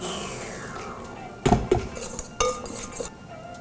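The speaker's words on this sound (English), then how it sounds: "I always like to use the whisk to scrape the bottom." A whisk scraping and clinking against a bowl while a soft no-bake piña colada mixture is stirred, with a few sharp metallic knocks and scrapes standing out over a quiet kitchen background.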